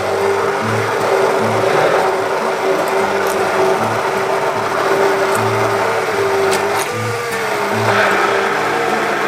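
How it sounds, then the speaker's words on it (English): An electric grinder whirs loudly and steadily, blending a custard ice cream mixture made with custard powder and Amul fresh cream, its motor hum pulsing with short bursts and brief shifts in pitch. "Now I am using grinder to grind it well."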